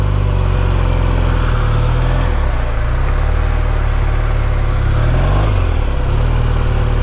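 BMW R1200RTP police motorcycle during advanced training, its engine running loud and close in a steady drone, with pitch rising and falling as the throttle is worked through tight figure-eight turns.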